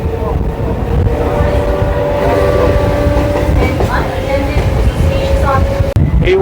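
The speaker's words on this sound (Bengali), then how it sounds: "এখান থেকে 1:15-তে ট্রেনটি ছেড়ে দিল হাওড়ার অভিমুখে, তারকেশ্বর লোকালিটি" A Tarakeswar local train runs from Sealdah toward Howrah, giving a continuous loud rumble and rattle of wheels and carriages with squealing tones, and a sharp break near the end.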